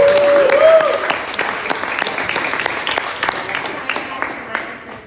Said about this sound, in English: give a big round of applause for our main event fighter